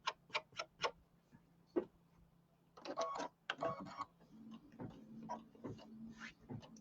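An embroidery machine stitches across the top of a quilt block, giving quiet, close bursts of rapid ticking and clicking with irregular pauses and a faint low hum underneath.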